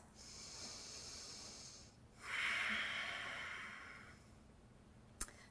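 Slow, deep breaths during a yoga class, a long hissing inhale or exhale followed by a second fuller one, soft and close, ending with a brief sharp puff.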